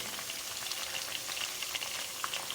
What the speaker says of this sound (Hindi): मसाले को भूनेंगे